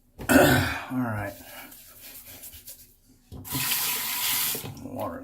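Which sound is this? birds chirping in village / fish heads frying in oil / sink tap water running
sink tap water running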